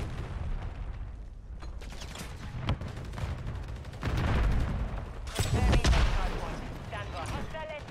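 Rifle fire from an MTZ 556 in Call of Duty: Modern Warfare 3, heard as bursts of shots with louder volleys around the middle and end, mixed with game effects and a voice talking.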